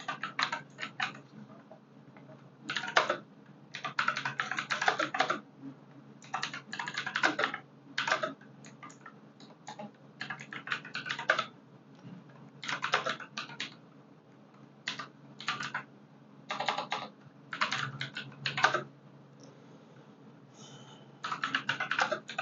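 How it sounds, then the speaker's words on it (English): Someone types on a computer keyboard nearby, with quick bursts of clicking keystrokes separated by short pauses, fairly quiet and steady, with no talk. "let me just type it out."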